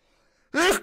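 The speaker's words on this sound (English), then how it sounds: "Hold on, I'm about to sneeze." A person sneezes once, a sudden loud burst after a quiet moment, sharp and close with a breathy, voiced quality that fades quickly.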